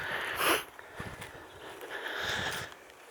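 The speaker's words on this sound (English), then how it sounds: "Oh, you can hear me sniffing." A few soft sniffs close to the microphone, spread over several seconds against faint outdoor background noise.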